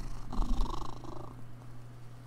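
A cat purring close to the microphone, a low rumbling vibration with a steady hum beneath, strongest early on and fading slightly, with no talk.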